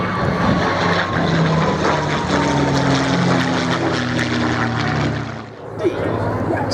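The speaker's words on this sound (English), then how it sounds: "the Merlin-engined, Spanish-built Messerschmitt, a combat aircraft with its own illustrious history" A Merlin-engined, Spanish-built Messerschmitt combat aircraft flies past at an air festival, its propeller engine droning loudly and steadily with a shifting pitch before fading slightly near the end, while a commentator talks over it.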